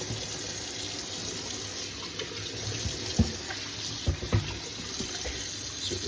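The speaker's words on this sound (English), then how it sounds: "You give it a little rinse off. Rinse any of the excess blood off of it." Tap water runs steadily over a raw turkey in a sink, a constant close hiss and splash broken by a few soft thuds and knocks as the bird is handled.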